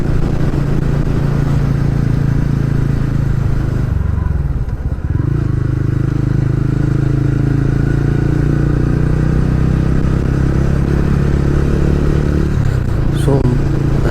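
TVS Ronin 225 motorcycle ridden on a road trip to Kodaikanal, a steady loud engine drone with rushing wind throughout, briefly dipping partway then holding constant.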